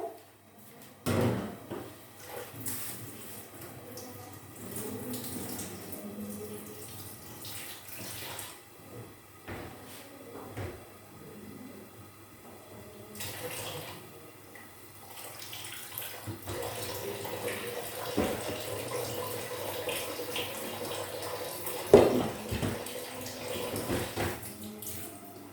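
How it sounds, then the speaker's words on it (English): Water from a pot of boiled yam pours off in a kitchen, a running, splashing flow with clinks and knocks of the pot and lid, fairly close and without speech. "Let me drain the water of this yam."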